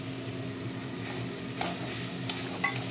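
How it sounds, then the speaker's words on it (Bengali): Bombay duck fish being stir-fried in oily spice masala, a continuous close sizzle with a few scraping spatula strokes and light metallic taps over a low steady hum. "এইবার মশলার সাথে লোটে মাছটা ভালো করে মিশিয়ে নিচ্ছি"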